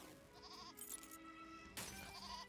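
A goat in a video game bleats twice, a short wavering cry near the start and another near the end, over a quiet game background.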